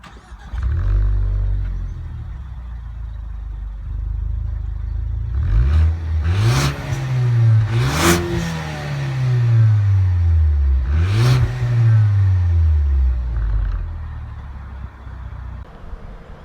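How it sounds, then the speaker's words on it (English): A 2016 Ford Focus ST engine idles, then revs up several times in rising and falling sweeps, fairly loud and close, with a muted exhaust note and no talking. "Ford Focus doesn't make a lot of noise from this exhaust system though."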